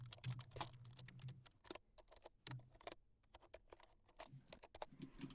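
Fast bursts of typing on a computer keyboard during a live stream: quiet, close clicking in irregular runs with short pauses, without speech.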